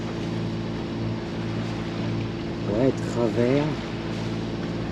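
A sailboat's engine hums steadily at a constant low drone while crossing from Minorca to Bizerte, Tunisia, with someone briefly speaking over it near the middle.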